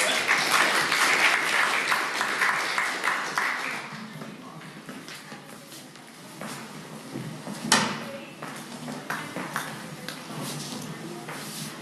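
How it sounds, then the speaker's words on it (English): An audience at a university debate on political correctness claps for the moderators, a burst that fades after about four seconds into scattered claps, shuffling and knocks with a sharp thump midway. "let's give our moderators a round of applause"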